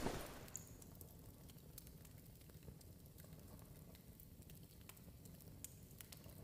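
Campfire in the video game Dark and Darker crackling softly, faint steady hiss with scattered small pops and snaps, quiet and continuous, without speech.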